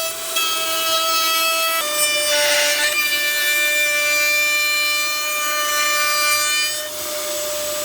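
A table saw rips through solid wood, its steady high-pitched whine loud and sustained for several seconds, with a brief rougher burst of cutting noise near the middle.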